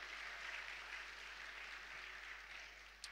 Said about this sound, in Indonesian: Yang rindu beri tepuk tangan yang meriah bagi Tuhan Yesus.